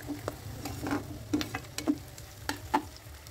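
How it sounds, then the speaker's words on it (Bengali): Onion and capsicum are stir-fried on high flame for soya chilli, with quiet, irregular scraping clicks of stirring over a faint sizzle in the pan. "তো হাই ফ্লেমেই কিন্তু নাড়াচাড়া করতে হবে প্রায় 2 মিনিট"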